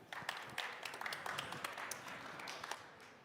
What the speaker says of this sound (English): So give a huge round of applause to Igor from M1 Project.